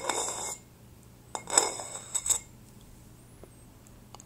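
Blade strokes on a Victorinox 7.8303 honing steel with a fine matte finish: a few quiet, brief metallic scrapes in short bursts against a low steady hum, with no talk.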